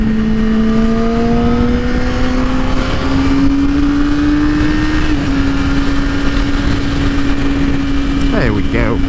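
A vehicle cruising at about 80 on the interstate, a loud steady roar of engine and road noise with a gradually rising drone, while a person talks throughout.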